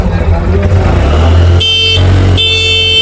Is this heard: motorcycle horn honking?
yes